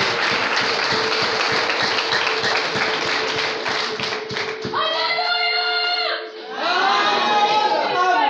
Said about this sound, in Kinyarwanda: Kadukomere Imana amashyi menshi cyane